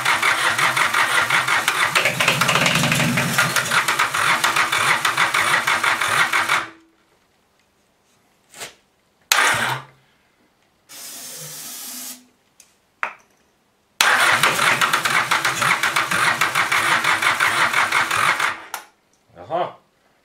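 A Mazda 323 with a 1.7 diesel engine cranks and runs on a cold start, a loud rough clattering idle that stops, followed by short bursts of sputtering and cranking, then the engine catches again and rattles on.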